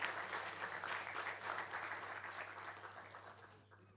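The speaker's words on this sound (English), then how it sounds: "The applause speaks for itself." Audience applause after an address by President Volodymyr Zelenskyy, a steady dense round of clapping that is fairly faint and distant, fading near the end.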